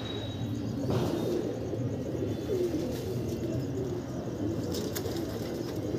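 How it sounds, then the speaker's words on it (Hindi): A flock of trained pigeons out in the open at evening, a steady, continuous outdoor wash with faint wing flutter and soft coos throughout, no talking. "ये कबूतर जी आनंद लेते हुए"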